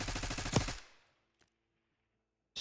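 An XM4 rifle fires a rapid automatic burst in a video game, loud and close, then cuts off into near silence with a faint click, followed by a sudden final sound at the end.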